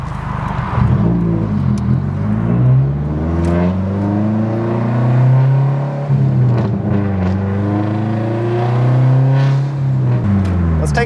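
FP Blue car's engine pulling under load while driving, a loud steady drone that rises in pitch, dips briefly around six seconds, then climbs again, heard from inside the cabin.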